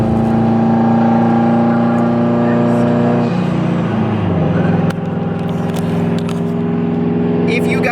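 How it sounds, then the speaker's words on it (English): Subaru WRX STI with a tuned engine and straight-pipe exhaust idling loudly and steadily nearby, a deep droning rumble with a slight shift midway. "this car has a straight pipe. That's why it's a little bit loud."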